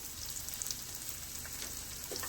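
Sliced ingredients fry in a pan during a one-pot crab leg, crawdad and shrimp boil, giving a steady, close hiss and crackle with no talking.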